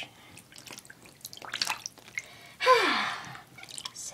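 Webkinz pool video game with a cartoon pet jumping into water, a single bright splash in the middle that drains away quickly, surrounded by small drips and quiet game sounds.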